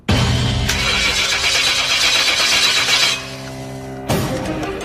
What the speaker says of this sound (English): When I hear Kaya start to try his engine and it didn't fire